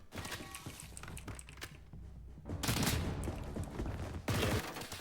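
STGW 90 rifle fire in the video game Blackhawk Rescue Mission 5, with rapid bursts of shots in clusters broken by short pauses, fairly loud and close.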